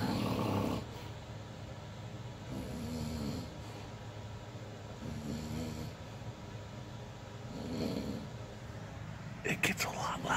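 Heavy snoring from a sleeping person in a shared room, long drawn breaths swelling every couple of seconds, close by and moderately loud, ending with a few sharp clicking bumps.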